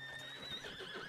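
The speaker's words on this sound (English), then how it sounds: "There's a horse." A horse neighs in Red Dead Redemption 2 (RedM), a clear whinny with a high, wavering pitch lasting about a second, close and fairly loud with no talk over it.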